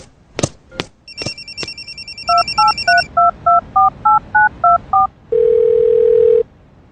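A telephone sounds in a home: a few sharp clicks, a steady multi-tone signal, then a regular run of beeping keypad dial tones and a final long steady tone, loud and close with no talk.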